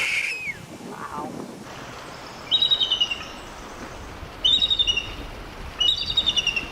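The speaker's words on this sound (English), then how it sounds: "It's the sound of the red-tailed hawk that they use for bald eagles in movies." A red-tailed hawk gives a descending screech, then three loud rasping, pulsed call bursts spaced a couple of seconds apart, set against an outdoor background.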